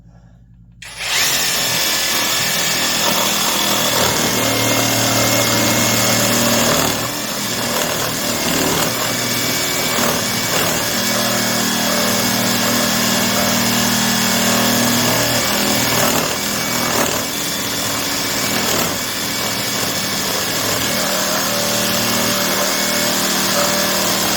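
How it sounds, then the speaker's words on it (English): A Vevor brushless cordless barrel-grip jigsaw cuts through a wooden 4x4, its loud, continuous buzzing motor and rasping blade running almost unbroken for over twenty seconds after a short quiet start. "You don't really cut 4x4s with a jigsaw."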